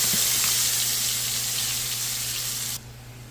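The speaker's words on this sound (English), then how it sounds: "Once that is heated, you're going to add your curry mixture in there." Curry mixture frying in hot oil in a pot, a loud, close, steady crackling sizzle that drops off sharply near the end.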